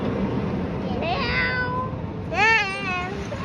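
A cat meows twice, a short call followed by a louder, longer one, close by in a quiet home room with faint background noise.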